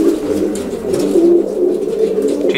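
Racing pigeons coo steadily in a loft, their low throaty calls overlapping in a continuous murmur close by, with no voices.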